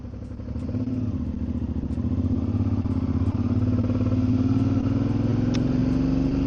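A motorcycle with freshly balanced wheels is ridden on a test drive, its engine droning steadily and rising gradually in pitch as it gains speed, loud and close with faint clatter and no talking.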